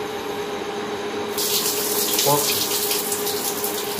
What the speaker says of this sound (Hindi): पोर्क को अभी आलू के साथ पानी में धो रहा हो